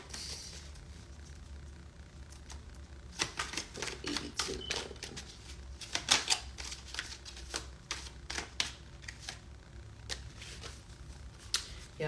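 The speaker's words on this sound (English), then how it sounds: "Yeah, we got 3 cards out of this deck." Cards being shuffled and drawn from a deck, with a series of quick riffling flutters and snapping clicks in close, irregular bursts, no voices.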